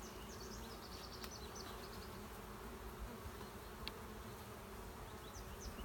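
Honey bees buzz steadily around an open hive brood box on a hot day, a dense, continuous hum with individual bees zipping close by now and then.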